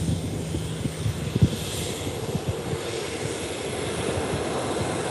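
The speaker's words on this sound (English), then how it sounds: "now the Transavia is just about to get off now" A Transavia airliner taking off at Málaga airport on a very windy day, a steady broad engine roar with heavy wind buffeting the microphone and a few low thumps.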